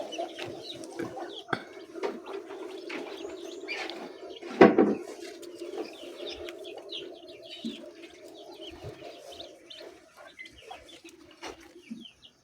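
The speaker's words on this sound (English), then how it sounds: "So far out of 9 eggs, I'm seeing 6 ducklings are already there." Newly hatched ducklings peeping in a small group, soft high chirps scattered over a low steady hum, with a brief louder knock in the middle.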